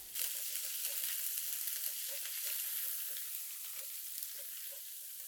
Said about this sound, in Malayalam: ചൂടായതിനു ശേഷം രണ്ട് ടീസ്പൂൺ ഇഞ്ചി വെളുത്തുള്ളി പേസ്റ്റ് ചേർത്ത് പച്ചമണം മാറുന്നത് വരെ ഒരു മുപ്പത് സെക്കൻഡ് ഇളക്കി കൊടുക്കണം